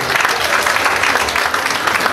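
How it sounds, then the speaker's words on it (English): Steady applause from a crowd at a national round table on hate speech, dense clapping filling the whole stretch at a loud, even level with no voices breaking through. "can we give him another resounding round of applause?"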